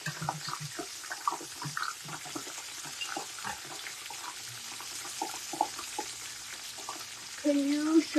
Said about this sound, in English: make sure that every corn is being fried